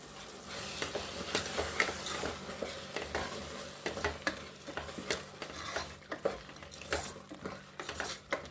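Mushroom palak pulao cooks with curd and salt just added, giving a soft frying sizzle under repeated spoon scrapes and taps against the pot, fairly quiet and uneven in rhythm.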